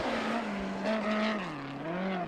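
Lone USAC midget race car, the number 43, circling the Arizona Speedway track, its engine note rising and falling as it revs through gear changes, steady and fairly close.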